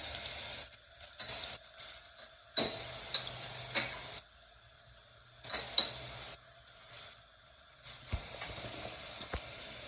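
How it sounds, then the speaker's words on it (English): Red onion paste sizzling in hot oil in a pan while making Indian chicken keema, a steady crackling hiss close by with occasional spoon taps and scrapes, no talking. "Oil has already become hot. Time to add the red onion paste, 1 tablespoon, 2 tablespoons."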